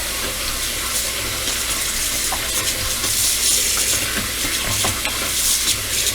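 Knitted fabric being immersed and moved in soapy water in a basin for wet blocking, a continuous close splashing and swishing wash with running-water texture, no talk.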